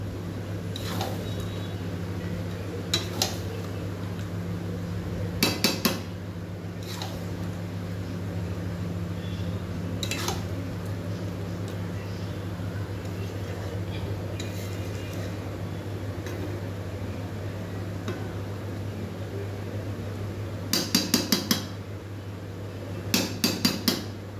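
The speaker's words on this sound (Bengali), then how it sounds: "এবারে নাড়াচাড়া করব, ভালো করে চিকেনের সঙ্গে মশলাগুলো মেশাবো" Chicken being stirred and mixed with spices in a pan during home cooking, giving sparse metallic clinks and taps at irregular intervals over a steady low hum, with a few quick clusters of knocks.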